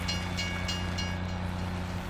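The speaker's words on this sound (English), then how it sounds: "Now that the train has moved forward." A train moves in Farming Simulator 17, producing a continuous low rumble and mechanical hum with faint periodic clicks from the rails, steady and fairly close, with no speech.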